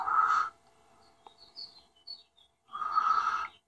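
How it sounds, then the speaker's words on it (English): Birds chirp outdoors, a few short high tweets scattered between two longer, louder bursts of sound, with no talking. "Hear the birds in the background."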